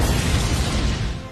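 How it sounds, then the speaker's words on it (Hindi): A terrifying explosion sound effect rolls out as a loud, dense, sustained roar that fills the whole range and only slightly fades toward the end. "खौफनाक धमाका हुआ"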